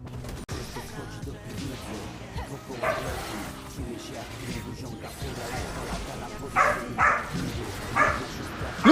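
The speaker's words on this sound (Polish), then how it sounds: "Co, co ty niego szczekasz?" A dog barks and yips at a cat indoors, with sharp bursts clustered near the end, heard under a man's loud, agitated voice speaking Polish.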